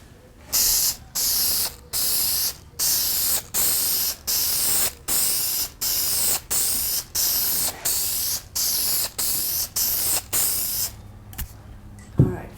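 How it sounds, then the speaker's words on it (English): Spray can of finish hissing in a steady series of short bursts, roughly one per second, loud and close, with no talking. "So let's just go ahead and spray it."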